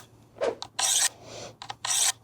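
Hand file rasping along the edge of a garden tool, a few distinct broadband strokes with short pauses between them, close and fairly loud, no talking.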